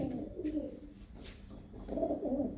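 Blue-footed pigeons of a prized breed cooing close by, soft low throaty coos in two short bursts separated by a quieter gap, with faint rustling in between.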